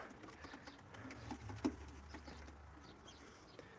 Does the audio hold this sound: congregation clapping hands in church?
no